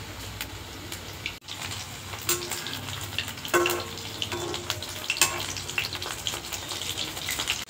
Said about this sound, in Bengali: এখানে কিন্তু চিকেন পকোড়াগুলো ভাজা হচ্ছে।